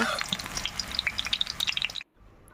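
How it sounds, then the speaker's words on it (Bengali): Eggplant pieces fry in hot oil with a dense crackling sizzle and sharp pops for two seconds before cutting off abruptly. "আমি নুন হলুদ ছাড়াই বেগুনগুলো ভেজে নেব"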